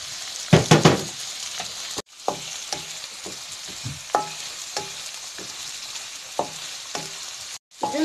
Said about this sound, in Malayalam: ഞാൻ ലോ ഫ്ലെയിമിലിട്ടാണ് വാട്ടിക്കൊണ്ടിരിക്കുന്നത്.